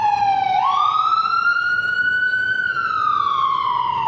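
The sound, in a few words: sirens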